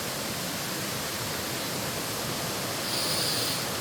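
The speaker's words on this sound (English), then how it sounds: "Cool, fresh spring water" Cool, fresh spring water flows outdoors in nature, heard as a constant broad rushing wash with no breaks. It is fairly loud and close, and a faint high hiss rises near the end.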